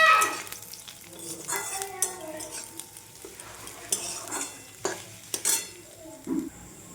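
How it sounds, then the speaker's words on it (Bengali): Chopped garlic frying in oil in a pan while green mung dal curry is cooked, with scattered soft sizzling, spoon stirring and metal utensil clinks in bursts, fairly quiet and close. "রসুনটাও ভেজে নেব।"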